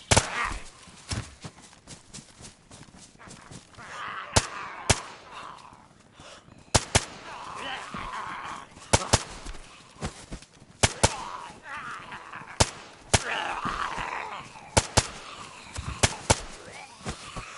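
Gunfire in DayZ on the Chernarus map cracks out as sharp, irregular single shots and short bursts, some loud and near, others softer, over a low background hum.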